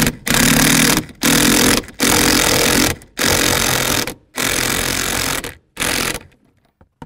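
A power tool drives a 17mm socket to tighten the rear shock nut on a 2011-2019 Ford Explorer, making loud, close, harsh buzzing bursts, six in a row with short gaps between.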